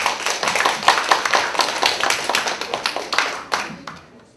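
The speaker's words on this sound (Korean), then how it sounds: "큰 박수 부탁드립니다" Audience applause at a university English department humanities lecture in Korea, a dense burst of many hands clapping throughout, steady then gradually thinning and fading out near the end.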